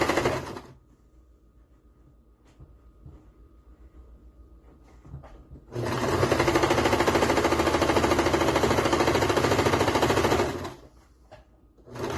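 Sewing machine stitching a clutch bag, with a few faint clicks and handling sounds at first, then a loud, steady mechanical whir of rapid stitching running for about five seconds before stopping.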